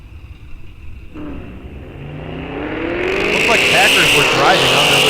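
Muscle cars on the Rock Falls Raceway drag strip, a quiet start giving way to an engine winding up and growing steadily louder, ending in a sustained roar with sweeping pitch changes as a car accelerates nearby.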